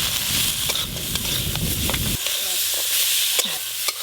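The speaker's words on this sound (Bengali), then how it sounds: "আলু আর বেগুন একটু হালকা করে নেড়ে নিয়েছি।" Potatoes and eggplant seasoned with turmeric and salt are stirred in a frying pan, a soft sizzle with scraping spatula strokes that thins out halfway through, leaving gentler frying and occasional stirs.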